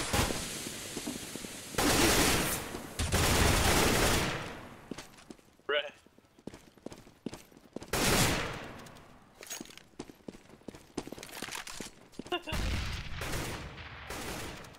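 Gunfire in the shooter game CS:GO, loud bursts of rifle fire and scattered single shots in irregular clusters, with short quiet gaps between them.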